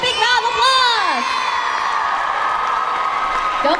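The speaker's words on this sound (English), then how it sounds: "Let's give them another big round of applause" Loud crowd cheering and applause at a school cheerleading competition final, whoops and high shouts from many girls swelling at the start, then a steady roar of clapping and cheers throughout.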